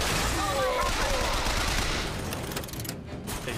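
Dense gunfire from the video game Bioshock Infinite fills the whole stretch as a loud, continuous roar of rapid shots, thinning slightly near the end.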